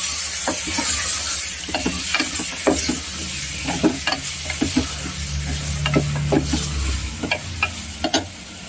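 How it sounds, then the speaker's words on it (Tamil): Chicken curry ingredients stirred in a hot pan: loud sizzling and frying underneath repeated close scraping and clattering strokes of a spoon, continuing alone without talk. "இப்போ நல்லா மிக்ஸ் பண்ணி வச்சுக்கிறேன்."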